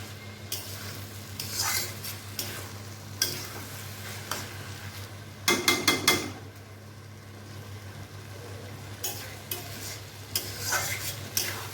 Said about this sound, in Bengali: এখন এটাকে সুন্দর করে নাড়াচাড়া করে মাখিয়ে নেব